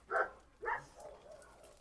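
A Kangal shepherd dog barks twice in quick succession at close range, two sharp loud barks followed by softer whining or grumbling sounds.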